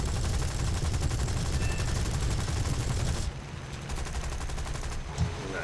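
Rapid bursts of 20mm Hispano cannon fire from a British aircraft in the combat game War Thunder, a loud dense rattling stream that runs nonstop for about three seconds, then resumes slightly quieter after a brief drop.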